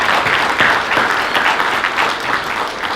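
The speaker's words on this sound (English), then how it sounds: "And so once again, we applaud you and thank you for your volunteer service." A crowd at a World Refugee Day celebration event applauds, a dense sustained wash of many hands clapping at close range, fading slightly toward the end.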